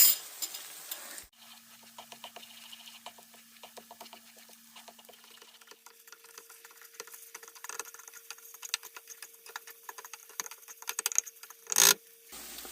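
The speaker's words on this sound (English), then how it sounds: "All right, I got 4 scrambled eggs in here. I'm just going to let that cook up." Four scrambled eggs cook gently in a pan for a breakfast burrito, giving a faint, quiet crackle with scattered soft clicks and scrapes, along with a short louder clatter near the end and no talking.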